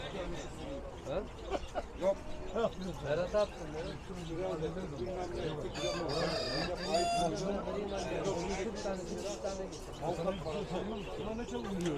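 Village chickens clucking and a rooster crowing amid steady outdoor chatter, with people talking in Turkish throughout over the birds.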